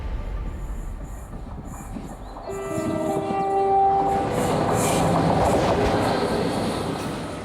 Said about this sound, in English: Our train is now on the Welsh Marches line, hurtling through the Shropshire Hills.